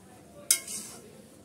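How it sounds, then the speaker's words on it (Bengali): Lid lifted off a pan of pointed gourd fry cooked with mustard: one sharp metallic clink, then a brief soft rush of sizzle and stirring, close and short. "এটা আমি ঢাকনাটা উঠিয়ে একটু নেড়ে চেড়ে দিচ্ছি।"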